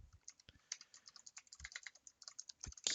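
Rapid typing on a computer keyboard, close and clear, with uneven bursts of clicky keystrokes and a few heavier thumps from larger keys, ending in a louder flurry.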